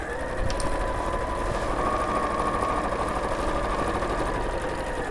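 A sewing machine runs a seam through two layers of fabric with a 1 cm allowance. It makes a steady, close mechanical whir and rattle that continues without a break, with no voices.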